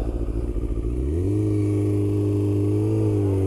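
A motorcycle engine revs up close and loud, the pitch climbing quickly then holding at a steady high drone, with no voices.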